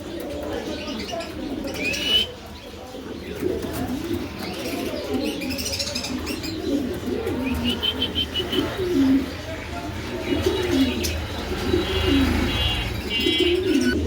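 Pigeons, including Andalusian pigeons kept for sale, cooing repeatedly in soft rolling calls with scattered chirps, close by, while someone talks over them.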